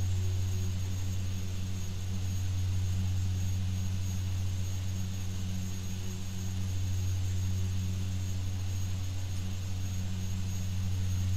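A flight-simulator aircraft engine idles at taxi power with a torque of about 130-140, giving a steady, loud droning hum with a constant low tone and whine that stays unchanged throughout, with no voices.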